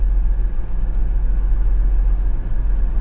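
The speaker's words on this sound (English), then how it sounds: "I just heard the compressor kick on." A steady low engine hum with a constant droning rumble, like a car's air conditioning compressor running under an idling motor, continuous with no voices.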